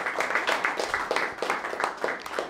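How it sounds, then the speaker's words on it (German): Gallery audience clapping in a modest room, a loose patter of hands rising and falling in several short bursts, fairly quiet and close, with faint voices mixed in. "Mal einen herzlichen Applaus."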